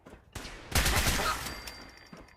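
Rapid gunfire in Fallout 4, a sudden loud burst of overlapping shots after a brief quiet lead-in, fading into a lingering tail.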